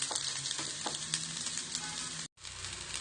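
Cooked rice tossed into hot ghee with bay leaf and cardamom for Tamil-style ghee rice, giving a steady close sizzle with stirring clicks, broken by a brief silent gap before the frying resumes.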